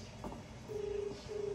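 A phone call to someone's mother being placed: a steady electronic tone sounds twice in a ringback-like pattern over low background hum, fairly faint and with no talking.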